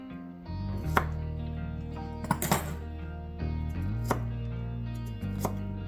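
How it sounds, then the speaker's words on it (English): A knife chops and thinly slices cucumber and radish on a board, a run of sharp, evenly spaced thuds close by, several in quick clusters, steady background hum underneath. "I'm just going to chop these up as well"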